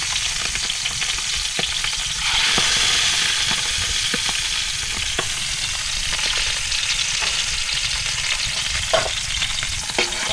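Longganisa sausage and eggs sizzle in a pan, making a steady crackling hiss with occasional pops and stirring scrapes up close.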